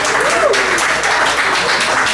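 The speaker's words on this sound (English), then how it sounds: "everyone please give a round of applause for Digital Divide" An audience claps at a tech meetup welcoming a pitch presenter, a brief burst of steady applause with a faint tonal voice or squeak near the start.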